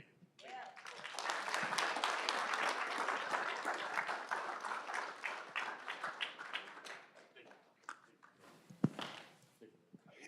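Board meeting audience applauds for about eight seconds, a dense broadband patter of clapping that thins into scattered claps and taps toward the end.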